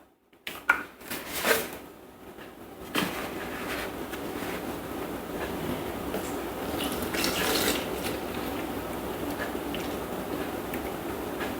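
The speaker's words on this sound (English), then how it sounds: "we're going to add 750 grams of milk" Milk is poured into a Thermomix bowl: a few brief clatters, then a steady, continuous liquid stream fills the bowl at close range, with no talking.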